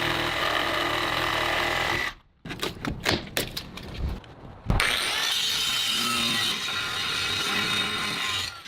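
Wooden edges are cut by hand for a window frame set in a wall, giving a run of rasping strokes broken by short sharp knocks and a brief pause, heard close.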